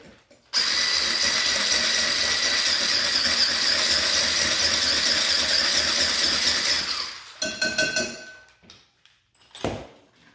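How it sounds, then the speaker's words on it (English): A hand mixer whirs steadily at high speed through cookie dough for almost-keto oatmeal cookies, a loud continuous whine for several seconds, then stops and restarts in short uneven bursts. "We're gonna give this a little mix here."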